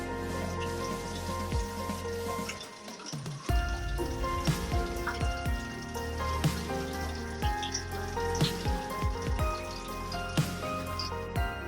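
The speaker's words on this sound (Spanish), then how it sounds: "Aquí está la famosa fuente de aguas curativas." Water trickles and splashes steadily from a public healing-water fountain in Balatonfüred, Hungary, with a continuous bubbling flow and scattered drips, heard close and fairly soft.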